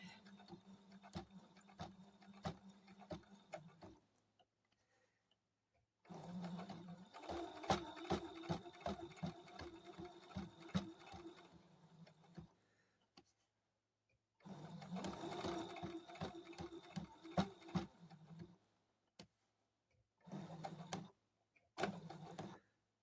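A sewing machine stitches in the ditch along the seams of a quilt, running in bursts of rapid needle strokes separated by pauses, with short back stitches and a few brief runs at the end.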